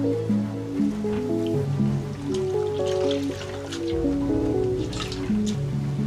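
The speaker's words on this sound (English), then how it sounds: "Using a wet, soapy cloth, wash the person's armpit and chest, starting at the far arm." Wet, soapy cloth washing a person's armpit and chest during personal hygiene care, giving soft squishing and dripping water sounds that continue steadily at close range without speech.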